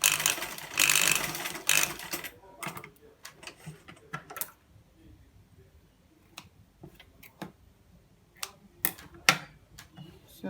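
A sewing machine runs a stitch along the armhole of a child's top: an opening burst of fast whirring stitching, then scattered sharp clicks and short mechanical taps with quiet gaps, close by and without voices.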